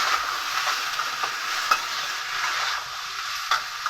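A spatula stirs chili powder and turmeric through a curry in a pan, a soft continuous sizzle with light scrapes and taps recurring every half second or so, close and moderately quiet, no voices.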